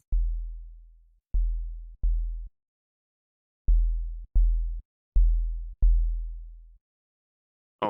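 A synthesized 808 bass patch with its decay turned up plays seven separate deep booming notes, each held and then fading smoothly, spaced irregularly with gaps of silence between them and a brief click at the end.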